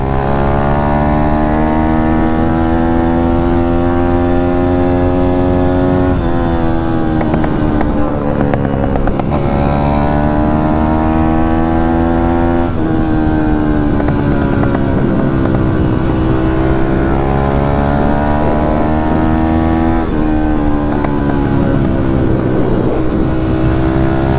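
A 150 RXF motorcycle engine runs close by and loudly for the whole stretch, its harmonic tone rising and falling with revs and gear changes and holding steady in between.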